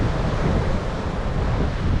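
Bitter northeasterly wind sweeping the Cardiff foreshore, a steady, loud, broadband rush buffeting the microphone close up, with surf-like roar beneath and no voices.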